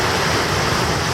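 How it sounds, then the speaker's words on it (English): Waves rolling in on the rocky Lake Superior shore beside a backcountry campground in autumn, a dense continuous wash of surf close by and loud, blended with wind, with no voices. "we're just watching the waves come in"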